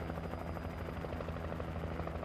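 A helicopter in the video game Alan Wake Remastered hovers close overhead, its rotor a steady, dense, unbroken roar filling the whole moment.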